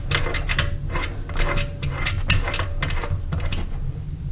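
Ratchet wrench tightening a bolt on a crankshaft timing sprocket installation tool on a 1983 BMW R80ST motorcycle, giving repeated close, crisp ratcheting clicks in quick bursts with steady mechanical rattling throughout.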